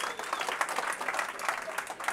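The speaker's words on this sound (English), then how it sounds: "give him a round of applause" A game show studio audience applauds contestants, a brief burst of clapping from a small crowd, fairly soft and steady, with faint voices mixed in.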